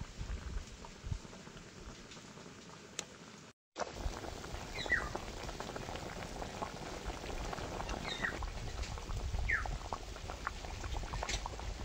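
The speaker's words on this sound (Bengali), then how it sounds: "তরকারিটা ফুটে উঠেছে" Fish curry with boal fish and eggplant bubbles in a pan, a soft continuous simmering fizz and pop, fairly faint and close, with a brief cut partway through.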